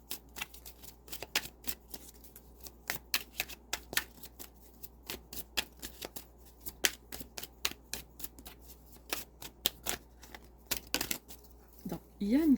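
A deck of Oracle des secrets oracle cards is shuffled by hand, giving a long run of quick, crisp, irregular card snaps and flutters, close and fairly quiet, with a soft voice at the very end.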